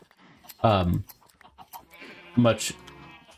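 Two loud, harmonic sheep bleats from the video game Minecraft, one near the start and another about two seconds later, over faint background game sounds.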